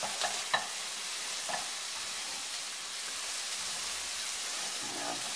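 Small, thin lardons fry and brown in a pan with a steady bright sizzle, broken by a few scraping stirs near the start, close and moderately loud, with no voices.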